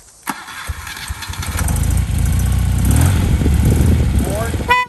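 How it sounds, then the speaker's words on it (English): A 1975 BMW R75/6 motorcycle engine cranks on the electric starter and fires up, settling into a loud, steady running rumble close by, with a brief blip of revs near the end. "Key on, starter button."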